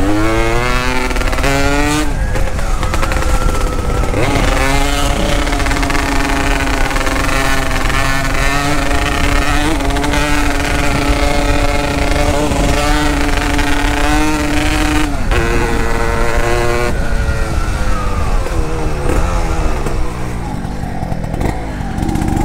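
A Yamaha DT200R two-stroke motorcycle rides through streets at night, its engine buzzing loudly and close, with repeated rev rises and gear-change dips over more than twenty seconds.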